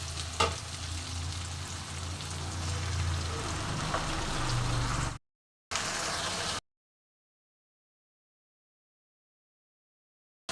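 Spice paste frying for a mutton curry, a dense continuous sizzle and crackle in a pan, close and steady for about five seconds, then cutting off briefly, returning, and falling silent.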